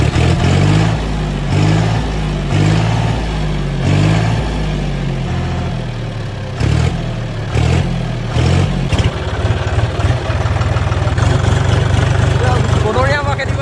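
A tractor engine runs loud and close, chugging with a rhythmic low pulsing, then turns rougher with rattling clatter toward the end.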